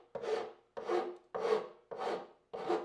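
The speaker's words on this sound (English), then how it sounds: "This is a rasp. It's my tool of choice." Five slow, even rasp strokes across plastic wood filler on a guitar body, each a rough scraping push followed by a short pause, close and clear with no talk.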